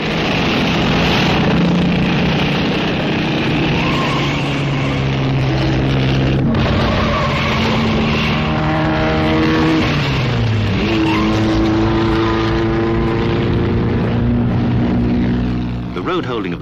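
1920s racing cars, among them Fiats, Sunbeams and Bugattis, roar along at the start of a 500-mile race, with loud overlapping engine notes rising and falling as the cars pass and accelerate.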